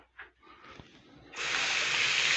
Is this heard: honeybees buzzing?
no